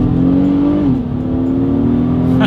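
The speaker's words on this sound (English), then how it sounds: "let's do a quick little acceleration test, and let's see if see how quickly we can get the new MDX here up to speed" A 2022 Acura MDX V6 SUV accelerating hard in sport mode, its engine note loud and steady with a brief dip as it shifts, then pulling on strongly.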